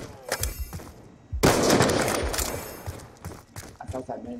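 Gunfire in a one-on-one shooter video game match, a loud burst of shots with a heavy blast near the middle, mixed with game effects and voices talking over it.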